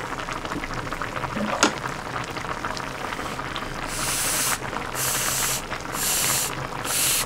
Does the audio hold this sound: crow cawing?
no